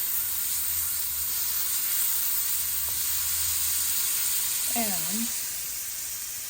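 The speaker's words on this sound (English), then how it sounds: "make a little saute right here." Garlic sizzles and fries in melted butter in a pan, giving a steady, close, bright hiss. A person speaks briefly over it, and a short whistle-like sound comes near the end.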